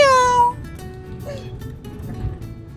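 A young child imitates a cat's meow with one loud, drawn-out falling cry at the start, then only quiet background murmur follows.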